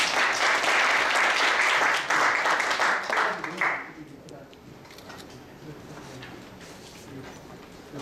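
An audience at a university tour event applauds loudly for about four seconds, then the clapping stops and a quieter room remains with faint talk.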